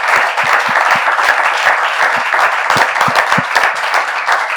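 An audience at a church gathering applauds steadily throughout, a dense, sustained wash of clapping close and loud with no speech over it.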